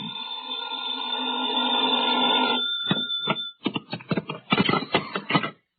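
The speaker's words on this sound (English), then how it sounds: "I was still in bed when the phone rang." An old-fashioned telephone bell rings loudly in a 1950s radio drama, one long sustained ring fading out before a rapid run of sharp metallic clicks and chatter-like bursts follows.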